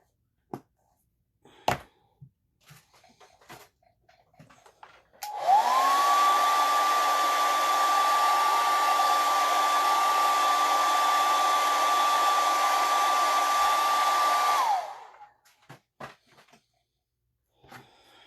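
A hair dryer dries painted Peanuts pieces, starting with a click and running as a loud, steady whooshing whine for about ten seconds before shutting off, with scattered handling knocks before and after.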